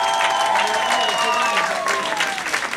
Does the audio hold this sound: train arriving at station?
no